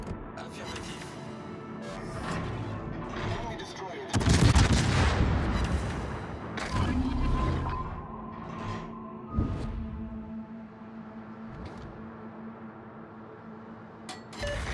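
Naval gunfire from the cruiser Annapolis in World of Warships, a loud booming salvo partway through followed by further thuds and rumbling over game sound and intermittent voice callouts.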